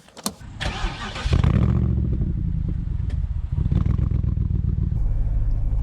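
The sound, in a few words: Morgan Aero 8 SuperSports 4.8 litre V8 car driving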